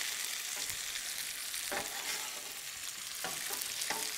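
A rack of lamb sears in a very hot pan, giving a loud, steady close-up sizzle with a few brief scraping stirs, and no voices.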